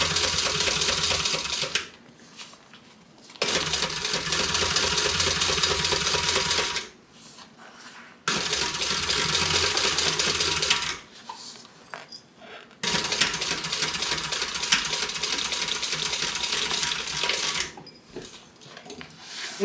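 Sewing machine stitching a tote bag in several separate runs of a few seconds each, with short quiet pauses between them, close and steady with a buzzy whir.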